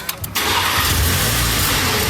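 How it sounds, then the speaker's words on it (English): A 2021 Audi Q3 S Line with a straight-piped exhaust fires up after a brief crank, then settles into a loud, raspy, sustained engine roar close by. "It's got a straight piped exhaust."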